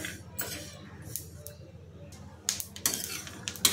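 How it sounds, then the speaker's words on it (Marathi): Peanuts and sesame seeds dry-roasting in a pan for a stuffed ivy gourd masala, with a spatula scraping and clinking against the metal in irregular strokes over a low steady hum, the stirring growing louder and busier toward the end. "त्याच्यासाठी शेंगदाणे आणि तीळ आपण भाजून घेते एकीकडे"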